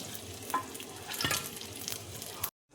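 Eggplant rolls fry in hot oil with a dense crackling sizzle and occasional utensil clinks, then the sound cuts abruptly to silence near the end.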